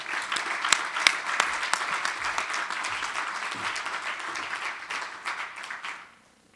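Audience applause fills a hall as a guest is welcomed to the dais at an award presentation, a steady dense clapping with a few sharp claps standing out, holding for about six seconds before fading quickly.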